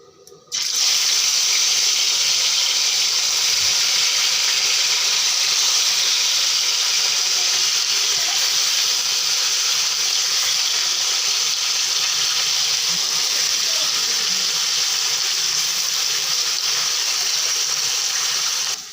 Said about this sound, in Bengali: কড়াইটা বসিয়ে তেলটা দিয়ে দিচ্ছি এখন মাছগুলো দিয়ে দেবো